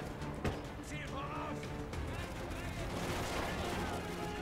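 Enemy gunfire in the video game Call of Duty: Ghosts: dense, sustained bursts of shots and battle noise rattle steadily throughout, with voices talking over the combat.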